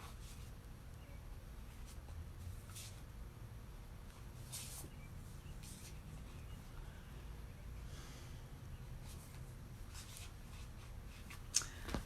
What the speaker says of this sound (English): I'm shuffling until I feel like the top card is the one.